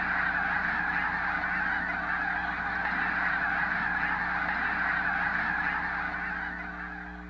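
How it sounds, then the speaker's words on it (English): A large flock of snow geese with a few Canada geese mixed in, honking continuously in a dense, steady chorus that carries across open ground before easing slightly at the end. "there's a bunch of geese out there right now"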